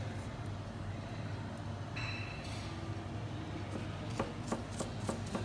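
A knife taps against a cutting board in a quick run of sharp chops through garlic near the end, over a low background rumble.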